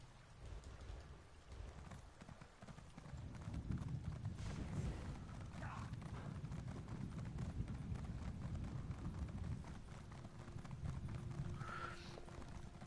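Horse hooves gallop in the video game Elder Scrolls Online, a steady, continuous clip-clop that runs throughout at moderate loudness, with a short whinny near the end.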